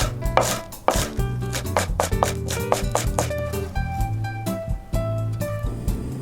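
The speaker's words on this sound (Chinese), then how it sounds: "接着取一小撮香葱，将葱白和葱绿分别切碎备用。" A knife chops spring onion whites and greens on a board in rapid, close, loud strokes, an uneven rhythmic series of sharp taps with some ringing tones behind it and no talk.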